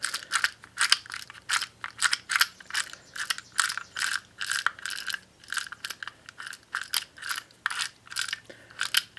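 Close, repeated ratcheting clicks come from a Briggs & Stratton recoil starter clutch as the pawls catch, in quick bursts at a steady rhythm with brief gaps between pulls, and no voices.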